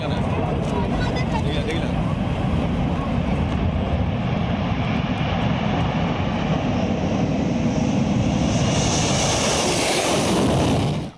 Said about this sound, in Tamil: வானிலிருந்து ஓடுபாதையில் தரையிறங்கிய விமானம் மீண்டும் விண்ணை பிளந்தவாறு வானை நோக்கி சீறி பாய்ந்தது.